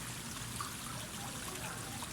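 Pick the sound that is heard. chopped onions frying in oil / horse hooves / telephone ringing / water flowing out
water flowing out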